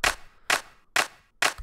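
Four sharp, dry clap one-shots triggered from a sample browser in Studio One, evenly spaced about half a second apart, each a crisp bright hit with a short decay, played alone and fairly loud.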